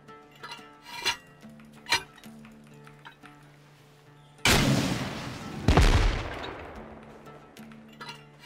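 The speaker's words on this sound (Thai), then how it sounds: "เดี๋ยวจะเริ่มระเบิดบ้านหลังนี้ก่อนเลยกันนะครับ" Explosives detonate against a farm house in the game Rust, a loud sustained blast followed by a second heavy boom with crumbling debris, preceded by sharp metallic hits and clanks over a faint background melody.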